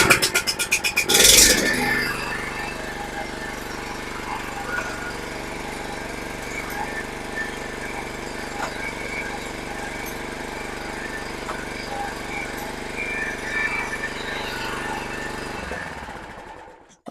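A John Deere JX75 lawn mower's small engine catches with a loud burst, then runs at a steady, close drone for about fifteen seconds before cutting off.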